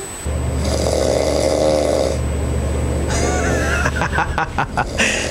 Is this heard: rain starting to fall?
no